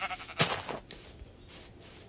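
A single short sheep bleat from the video game Minecraft, fairly faint, followed by quiet ambient noise.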